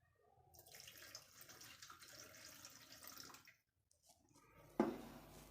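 A little water poured into a cooking pan for a brinjal and salted dried fish dish gives a faint, close trickling pour for a few seconds, then a brief pause and a short splash.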